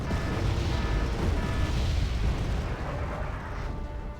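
Continuous rumbling explosions and artillery-like booms in the video game Wargame Red Dragon, heavy overlapping blasts with a dense low roar, loud and sustained without talk.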